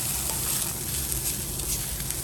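Grated coconut roasts in a pan for Goan crab xacuti, a dense steady sizzle with faint stirring scrapes, close and continuous, no voices.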